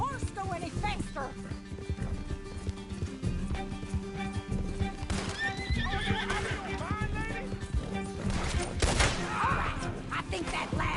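Hooves pound in a steady galloping rhythm while a horse whinnies and neighs, with game music and people talking over it, in the video game Red Dead Redemption 2.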